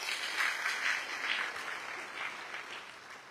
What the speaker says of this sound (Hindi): जोरदार तालियां इनके लिए होनी चाहिए